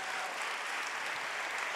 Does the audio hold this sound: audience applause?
yes